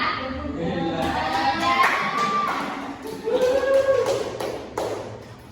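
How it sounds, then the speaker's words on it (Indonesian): A primary school class does a rhythmic spirit clap, a series of claps and taps in counted groups, close and fairly loud, with children's voices and chanting mixed in between the beats. "kita lakukan tepuk semangat dulu ya"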